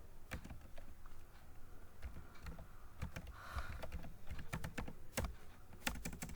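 Computer keyboard typing as bank account details are entered in accounting software, with irregular bursts of crisp key clicks and a few firmer keystrokes throughout.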